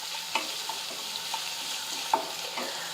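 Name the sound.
onions frying in a pan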